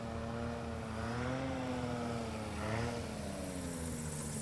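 A STOL airplane's propeller engine drones steadily during a short takeoff at a National STOL Series championship event in Sulphur Springs, Texas, a moderately distant hum with a slowly shifting pitch.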